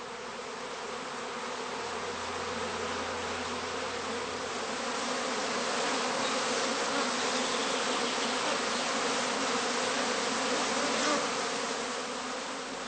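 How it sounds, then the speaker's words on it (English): A honeybee cast swarm pours out of a heather skep at an apiary, producing a dense, continuous buzzing hum that stays loud and steady throughout, swelling slightly midway, with no voices. "If a cast is thrown off now, the swarm follows the queen out of the skep entrance in a regular cascade."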